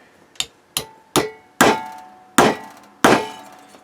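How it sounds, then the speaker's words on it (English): Six sharp metallic taps from a ball peen hammer striking a bent amplifier heatsink flat, each clang ringing briefly and growing stronger, spaced about half a second apart, close and with no talk. "I'm just gonna gently massage this back, ball peen hammer"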